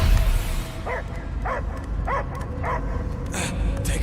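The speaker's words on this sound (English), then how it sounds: "I hear only barking." A dog barks in the video game Marvel's Guardians of the Galaxy, giving a regular string of about five yips over a low rumbling game soundscape.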